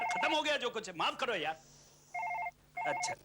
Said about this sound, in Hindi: यार एक और कंडोलेंस फोन